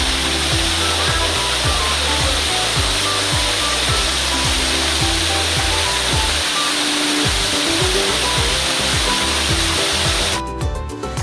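Rushing water pours down at the Air Terjun Donat (Sarasah Donat) waterfall, a loud, unbroken broadband roar that fills the whole scene, with a few rhythmic thumps beneath and no voices heard.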